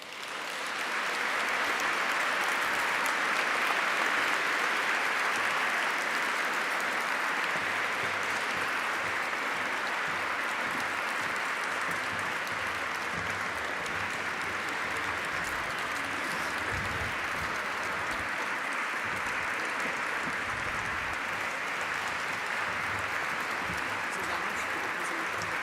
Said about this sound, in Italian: con un caloroso applauso